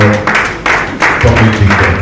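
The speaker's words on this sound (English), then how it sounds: "Please, a round of applause for" A crowd at an honours ceremony in Lagos applauds in short bursts, loud nearby clapping that swells and dips, mixed with low musical or vocal tones in the room.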